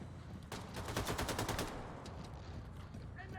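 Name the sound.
gunfire in the video game Wolfenstein II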